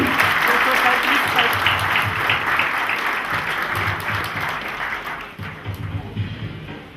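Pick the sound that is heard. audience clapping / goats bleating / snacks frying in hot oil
audience clapping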